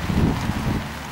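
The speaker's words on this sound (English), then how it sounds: "Not only have we got strong winds" Strong gusting wind buffets the microphone with a deep, continuous rumble, steady throughout and no voices.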